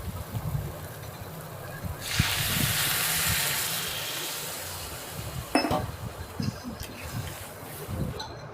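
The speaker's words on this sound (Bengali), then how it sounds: "নাড়িয়ে নেওয়ার পর পরিমাণ মতন জল দিয়ে দেবে" Water poured into a pan of soybean curry, a steady close rushing splash lasting a few seconds, followed by light clinks of utensils against the pan.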